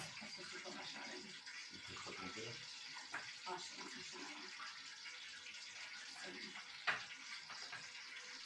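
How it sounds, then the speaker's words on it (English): A pot of pasta water boiling on a kitchen stove in Rome, giving a steady bubbling, hissing wash with a few louder pops, heard close and continuous with no talk over it. "So our pasta water is also boiling."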